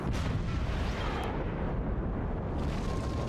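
Mortar fire and explosion in the Forts game, a dense rumbling blast that swells at the start and rolls on loudly through the short stretch.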